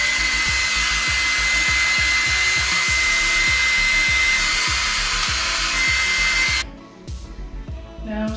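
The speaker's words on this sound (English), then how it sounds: "it's better to put the blow dryer on cold air because it'll dry rather than melt" A blow dryer set to cold air dries the lace of a full lace blonde wig, a loud steady whir running for most of the stretch before it cuts off near the end.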